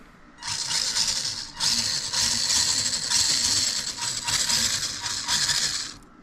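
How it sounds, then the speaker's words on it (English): The brushed electric motor of a WPL D12 RC drift truck whirs up close in a series of sharp, high-pitched revving bursts with brief pauses between them, accompanied by a gritty rattle of gears. "Brushed motor."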